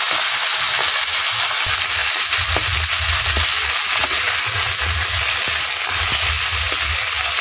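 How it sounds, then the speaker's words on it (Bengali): Fish pieces frying in hot oil, a loud steady sizzle with soft bubbling and occasional stirring clinks underneath, no talk. "মাছগুলো ভেজে নিই ভালো করে।"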